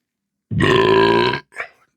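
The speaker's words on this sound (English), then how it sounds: "Good burp." A single long, loud, close burp after drinking ale, with a low resonant rumble, followed by a short softer exhale.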